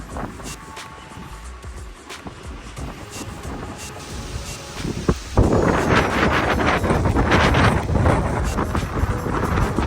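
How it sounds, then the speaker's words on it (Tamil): Gusty wind buffets the microphone while rain hisses steadily in Munnar, the roar swelling louder halfway through and staying strong and close. "மழையும் காற்றும் பயங்கரமாக அடிக்குது."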